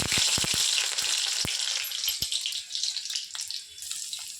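Chopped garlic hits hot oil in a pan and sizzles loudly, with a few sharp crackles and spatters at the start before it settles into a steady fry.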